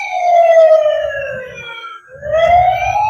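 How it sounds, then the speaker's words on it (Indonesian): Toy fire truck siren wailing loudly and close, a rising-falling electronic tone that dips briefly around the middle before climbing again, with a faint low rumble underneath. "Mobil pemadam kebakaran."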